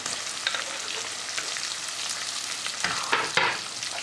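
Chopped onions with green chilies sizzle steadily in a hot pan while urad dal is being cooked, giving a continuous close hiss with occasional stirring scrapes and no talking.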